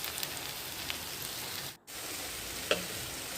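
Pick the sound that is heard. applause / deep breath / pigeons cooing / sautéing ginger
sautéing ginger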